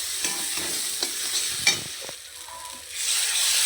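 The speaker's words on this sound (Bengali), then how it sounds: "এবারে আমি লবণ হলুদ এর মধ্যে দিয়ে দেব, একটু ধনে গুঁড়োও দিয়ে দেব, দিয়ে ভালো করে মশলাটাকে কষিয়ে নেব" Masala with salt, turmeric and coriander powder frying in oil, a continuous crackling sizzle with scraping stir strokes and soft knocks, rising toward the end, no voices.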